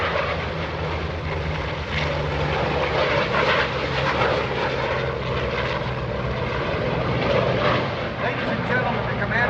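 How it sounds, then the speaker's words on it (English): An F/A-18F Super Hornet at a Navy airshow gives a steady, loud, broadband roar that runs throughout, with a lower engine drone beneath it and a public-address announcer talking over it. "watch again as the Super Hornet approaches"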